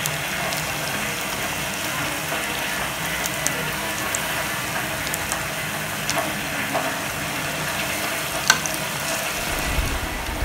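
Raw banana bajji fry in hot oil with a steady, dense sizzle and scattered small crackles and pops throughout, close and continuous with no talking.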